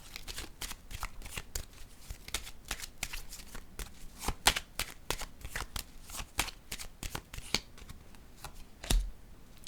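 Playing cards handled and drawn from a deck during a card reading, heard as a quick series of close, crisp flicks and snaps at an uneven rhythm, fairly quiet.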